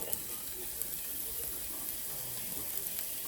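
Seasonings sautéing in a pan for ginisang sitaw with shrimp, a steady soft sizzle and hiss with faint watery crackle running evenly throughout, close and moderately quiet, with no voices.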